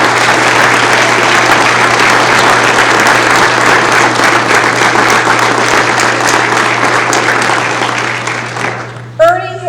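Sustained audience applause at a retirement last lecture for a college instructor, loud and steady for about eight seconds before tapering off, with a constant low hum beneath and a voice starting to speak at the end.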